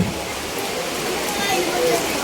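Steady rain pours down throughout an outdoor music gathering marking a first anniversary and award presentation in Cherpu, a broad even hiss holding for the whole stretch with faint voices mixed in underneath.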